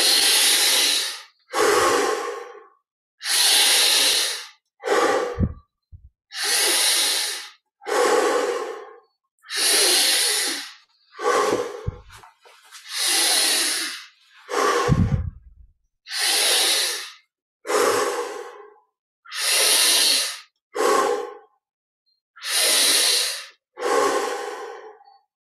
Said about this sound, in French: On prend 10 respirations de plus, encore un peu plus d'amplitude.